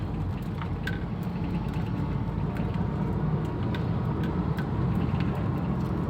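A 2013 Toyota Rush accelerates hard with its engine droning loud and steady from inside the cabin, a constant broad roar with small ticks and rattles over it.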